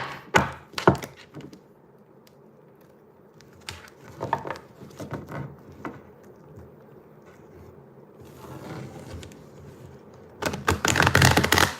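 Tarot cards are shuffled in several quick, papery bursts separated by quiet pauses, ending in a longer flurry of riffling.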